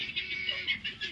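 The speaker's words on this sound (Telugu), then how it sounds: "చూడండి కోళ్ళు ఏం చేస్తున్నాయో" Country chickens in a shed give soft, close clucking calls in a few short bursts over a low background hum.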